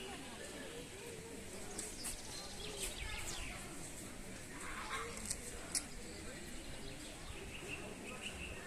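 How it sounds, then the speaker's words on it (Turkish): Faint, scattered bird chirps over a soft outdoor hiss in Yalova, Turkey, with no other clear sounds standing out. "Kuş sesleriyle birlikte."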